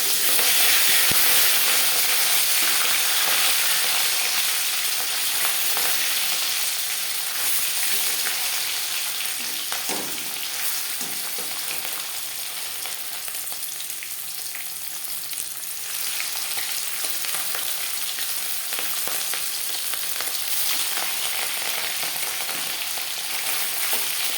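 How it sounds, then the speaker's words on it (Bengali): Pieces of rui fish fry in hot refined oil in a pan, producing a loud, continuous, crackling sizzle close up that holds steady throughout and eases off only slightly toward the end. "মাছ একটা সাইড ভাজা হয়ে গেলে অপর সাইড দিতে দেবো"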